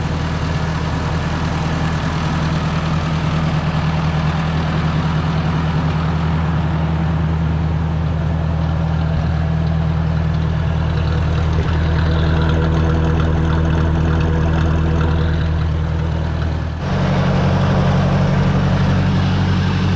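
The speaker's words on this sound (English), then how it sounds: "That can't be much wrong with that little tractor. It sits there and idles too darn good." A small Ford 850 Powermaster tractor engine idles steadily up close, a loud, even low throb that runs without a break, with a slight shift in tone near the end.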